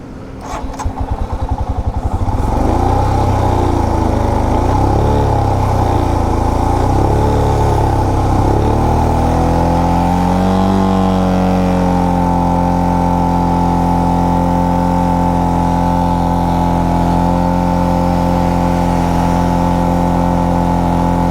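A touring motorcycle, broken down mid-journey, cranks for a couple of seconds, then catches and runs loud and close, revving up and down before settling into a steady idle drone.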